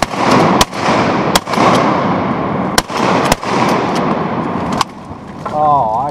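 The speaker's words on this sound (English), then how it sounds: "I shot the stinking Susie." Several sharp shotgun blasts fired at ducks during a hunt at Otter Slough, loud and close and irregularly spaced, over windy outdoor noise with a brief duck call near the end.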